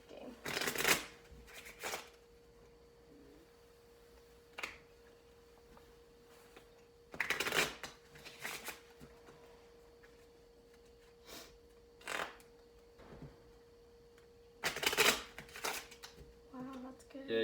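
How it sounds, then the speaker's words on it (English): Playing cards being shuffled by hand in several separate bursts of crisp riffling, with quiet pauses between them and faint talk in the background. "you gotta shuffle them up real good"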